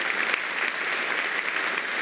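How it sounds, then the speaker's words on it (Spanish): A church congregation claps to praise the Lord during a sermon, dense and even applause from many hands, sustained at full strength for the whole short stretch. "Dale un aplauso al Señor"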